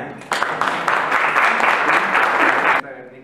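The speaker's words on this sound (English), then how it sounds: "And I ask you for a big applause for Giancarlo." A burst of enthusiastic applause from an audience at a book launch event at the Spanish embassy, steady and dense for a couple of seconds before cutting off abruptly.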